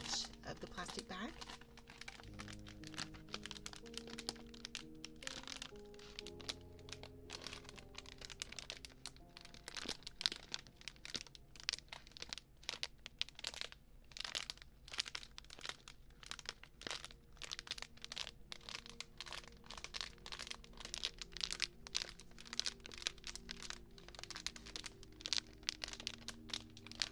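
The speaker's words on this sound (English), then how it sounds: "Let's go ahead and take advantage of the plastic bag." A plastic bag from a Popin' Cookin' kit crinkles and rustles up close in quick, crisp bursts that go on almost without a break, fairly quiet overall.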